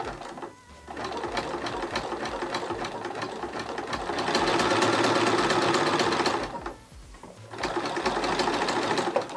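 A Bernina B480 sewing machine runs a zigzag stitch through a thick stack of 32 fabric layers, giving a steady close rattling hum that speeds up, pauses briefly near the middle and then resumes, with no talking.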